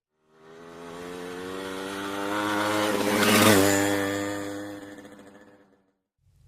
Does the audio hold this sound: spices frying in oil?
no